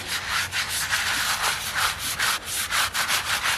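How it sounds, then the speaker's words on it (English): A brush scrubs a dirty old headstone during cleaning, giving rapid, rhythmic rasping strokes that are close, loud and steady throughout. "This is why you want to be sure to scrub it and rinse it that last time"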